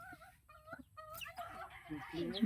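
Chickens cluck on a farm in a short run of soft, pitched calls, fairly faint and near, with people talking quietly underneath and some rustling.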